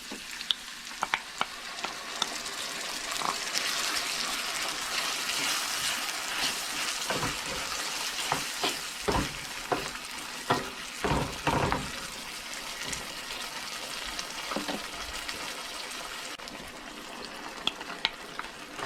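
Pork sizzles and fries steadily in a pan with butter and a seasoning mixture, with repeated scraping and stirring clicks from a utensil throughout, close and moderately loud.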